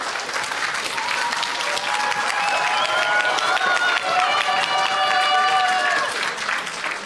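An audience at a public debate in Ústí nad Labem applauds loudly and continuously, a dense crowd clapping sustained for several seconds with some voices mixed in.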